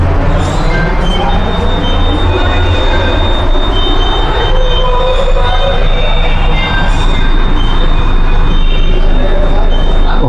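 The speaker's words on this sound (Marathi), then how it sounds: "पुणे मेट्रो." Pune metro train pulling into Nashik Phata station, a loud continuous rumble with a sustained high wheel squeal and brake hiss, close by, with some speech in the background.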